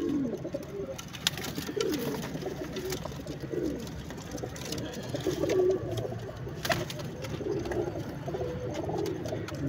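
Several pigeons owned by a breeder coo in low, repeated throaty phrases, moderately close and continuous throughout, with no speech over them.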